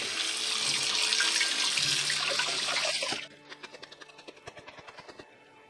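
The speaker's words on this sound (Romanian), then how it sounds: "le punem într-o sită și le trecem printr-un jet de apă rece" Cold water runs hard from a tap onto mushrooms in a sieve, making a loud, rushing splash that cuts off abruptly, leaving a series of quick drips and taps.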